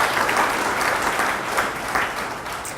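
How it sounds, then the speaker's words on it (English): Sustained applause from an indoor audience at a company's ribbon-cutting ceremony for a health diagnostic laboratory, a steady dense wash of clapping with slight swells and no talking. "heard some applause, okay?"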